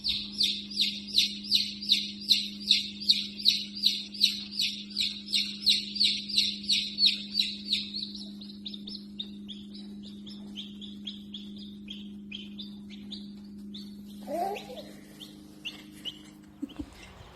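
A chick peeps in a rapid, regular series of high chirps, loud at first then fading, over a constant low hum.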